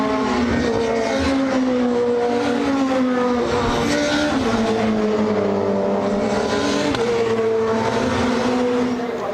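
WTCC touring race cars roar past at Monza in 2007 with loud sustained engines. Pitch sweeps up and down through gear changes, and the engines overlap continuously from close by.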